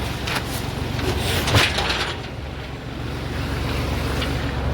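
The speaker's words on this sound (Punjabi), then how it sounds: "ਅਜੇ ਵੀ ਪਾਣੀ ਥੋੜਾ ਥੋੜਾ ਚੱਲਦਾ ਆ" Steady rushing floodwater with a broad roar and gusts of wind buffeting the microphone, no voices.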